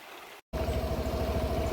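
River water rushing steadily at the point where a stream meets the Periyar near Keerikkara, Vandiperiyar in Idukki, a dense continuous flow with a low engine-like rumble, briefly cut to silence near the start.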